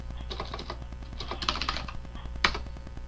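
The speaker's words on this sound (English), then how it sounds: "I'm just going to type here, and that would be reaction rate" Typing on a computer keyboard in short bursts of close, crisp key clicks with brief pauses between them.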